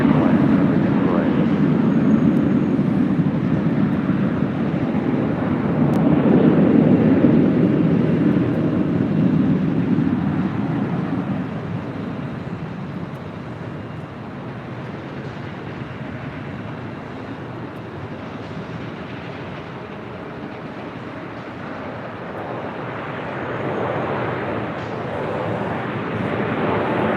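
A Delta Boeing 767-300ER airliner lands at LAX with a loud, broad jet roar that is strongest for the first ten seconds, then eases into a lower, continuing rumble that swells slightly again near the end.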